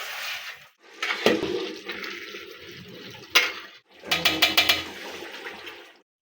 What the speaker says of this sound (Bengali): জলটা দিয়ে দিলাম।